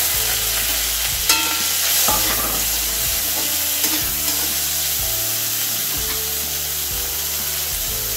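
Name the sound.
black cumin and jackfruit seeds frying and stirred in pan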